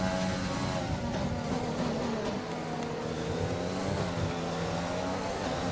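Race cars in an F1 video game overtake on a straight at the Canadian Grand Prix, with loud continuous high-pitched engine whine and overlapping revving from several cars running close together.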